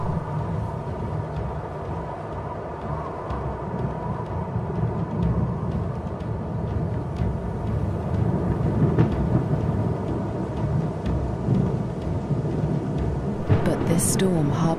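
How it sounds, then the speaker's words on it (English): Thunder from an approaching storm over dry African grassland rolls as a deep, continuous rumble. It is loud and sustained, swelling slightly toward the end. "A storm approaches."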